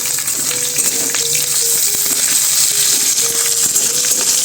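Split green chillies hiss and sizzle in hot oil among onions already fried reddish brown, a steady loud frying sound with faint clinks of stirring.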